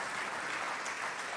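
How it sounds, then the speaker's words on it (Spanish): A Spanish-speaking church congregation applauds the Lord, a soft, even wash of many clapping hands heard at a distance and without voices over it. "Fuertes aplausos al Señor."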